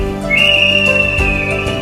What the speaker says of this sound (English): A whistle is used to inform that someone is trapped during an earthquake.